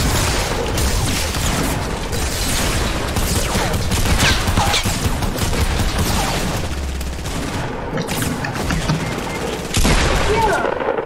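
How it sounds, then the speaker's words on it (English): Gunfire in a video game squads match: rapid bursts and fusillades of automatic shots crackle almost continuously, with occasional heavier booms, while players talk over the shooting. "They're shooting already."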